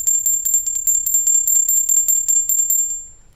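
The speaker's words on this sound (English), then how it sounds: "this little bell that I use to cleanse my space" A small altar bell rung to cleanse a space, shaken in a rapid, steady jingle of bright, ringing strikes for about three seconds before fading out, close and clear.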